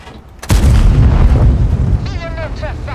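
A tank cannon fires once in a video game, a sudden heavy boom with a long rumbling tail, followed by faint whistling effects as the blast fades.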